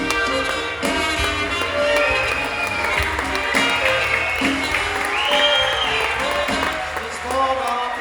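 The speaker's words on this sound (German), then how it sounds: "Das war der Applaus, ja, den haben sie schon verdient." At a Pentecost folk festival in Kötzting, an audience gives the musicians a long round of dense, steady clapping. Overlapping voices and some whooping blend into it throughout.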